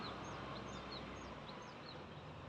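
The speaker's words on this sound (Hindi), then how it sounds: "चिड़ियों की बहुत प्यारी आवाज़ें आ रही हैं।" Small birds call in the morning, with several short, thin chirps repeating faintly at a distance over a low, steady outdoor hum.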